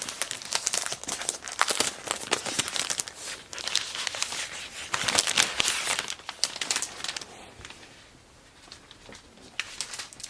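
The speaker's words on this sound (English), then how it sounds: "they have the laptop wrapped up in a plastic. So I'll take that off." Plastic wrap being peeled off a new space gray MacBook Pro 16-inch laptop, producing close, loud crinkling and rustling in irregular bursts that fade toward the end, with no speech.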